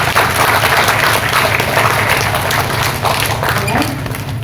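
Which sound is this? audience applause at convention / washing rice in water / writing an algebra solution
audience applause at convention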